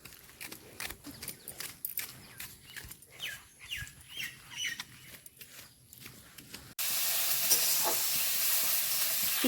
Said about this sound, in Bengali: শুকনো লঙ্কা, তেজপাতা সব দিয়ে এখন ভাজা ভাজা করছি